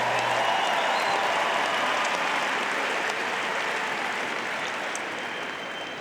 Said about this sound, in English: One more round of applause for our two players.